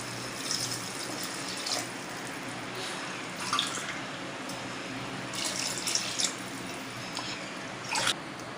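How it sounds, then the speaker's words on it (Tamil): Water is poured into a pan of tomato rice, a steady splashing stream with a few louder gushes and clinks, close by. "இப்போ நம்ம தண்ணி சேர்த்துக்கலாம்."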